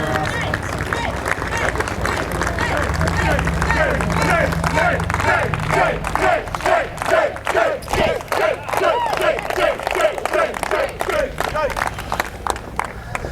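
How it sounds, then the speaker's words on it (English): A pro wrestling crowd in Cleveland roars and shouts at first, then settles into loud, steady rhythmic clapping that continues to the end, with cheering voices underneath. "Give a round of applause."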